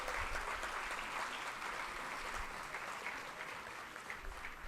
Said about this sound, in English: Let's give a big round of applause for all the qualifiers.